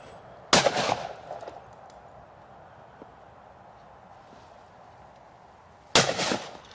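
Two loud shotgun blasts at clay targets, one near the start and another about five seconds later, each with a sharp crack and a rolling echo over quiet outdoor ambience.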